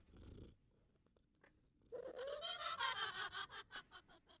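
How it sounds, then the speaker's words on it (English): A cat resting on a bed in White Rabbit's house in PowerWash Simulator makes a quiet purring, meow-like sound, alone and faint. "the evil cat's just chilling on the bed"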